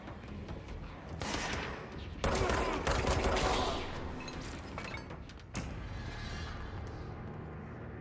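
Bursts of gunfire in the video game Control erupt in several loud volleys, with rapid shots, impacts and shattering debris in a chaotic firefight and no break between bursts.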